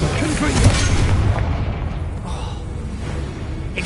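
Confringo blasting spell going off in Hogwarts Legacy, a single deep booming burst early on that rolls off into a fading low rumble.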